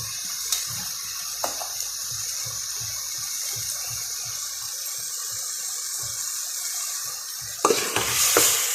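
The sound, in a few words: sautéing onion, tomato, ginger, garlic and green chili in oil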